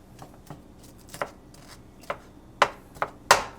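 Knife chopping onion on a cutting board, several sharp separate chops at an uneven rhythm, the later strikes louder and closer, with no talking.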